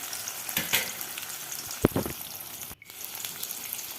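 Onions frying in a pan for Assamese-style chicken curry: a steady close sizzle and crackle, broken by a few brief stirring scrapes and a short dip near the end.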